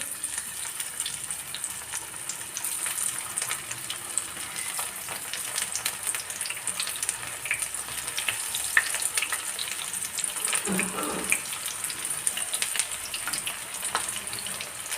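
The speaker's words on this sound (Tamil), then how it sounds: "ஆயில் நல்லா சூடாயிருச்சு இதில் நம்ம வந்து பெரட்டி வச்சுக்கிறது ஒன்று ஒன்றா போடுவோம்" Batter-coated baby corn deep-frying in hot oil, a dense continuous bubbling hiss near and steady, with a brief louder splash or drop partway through.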